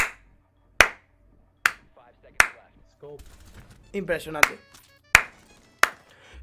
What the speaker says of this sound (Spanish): Solo me toca aplaudir hacia esa acción que se ha hecho.